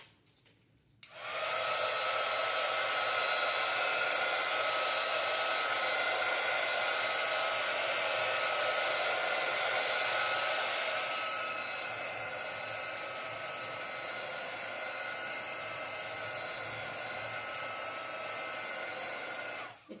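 A heat gun drying wet paint on a nativity painting blows with a steady, loud whooshing hum that starts abruptly, runs continuously for about nineteen seconds with a slight shift midway, then cuts off.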